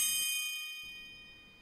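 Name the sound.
school bell ringing for recess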